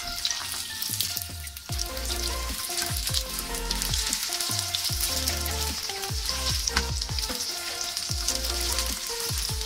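Paneer pieces deep-frying in oil for paneer Manchurian, a lively bubbling sizzle with repeated clinks and scrapes as a spoon turns them, close and continuous without talk.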